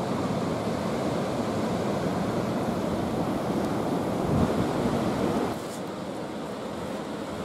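Rough ocean surf crashing against a coastal bluff as the tide comes in, a continuous loud roar of breaking waves with wind buffeting the microphone, easing slightly near the end.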